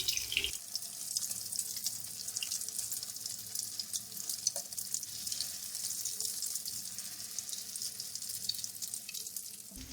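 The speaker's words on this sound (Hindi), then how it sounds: "अब ये दोनों तरफ से अच्छे से फ्राई हो गए।" Chicken shami kebabs frying in a pan, giving a loud, steady, dense sizzle that runs unbroken the whole time, close up and with no talking.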